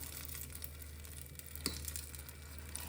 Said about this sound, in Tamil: இப்போ தாளித்ததை இதில் ஊற்றிடலாம்.